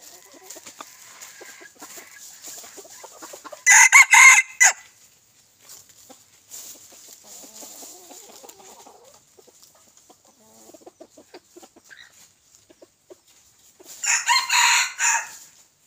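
A young rooster about eight to nine months old crows twice, once early and once at the end, loud and clear. Quieter clucks and rustling outdoors fill the gap between the crows, with no talk.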